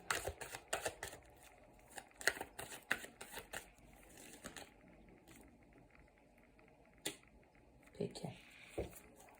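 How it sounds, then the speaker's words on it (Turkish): Tarot cards handled and drawn from a deck, a run of soft close shuffling taps and slides, then sparse clicks and rustles near the end, with no clear talk. "Şu desteden bir kart daha alacağım"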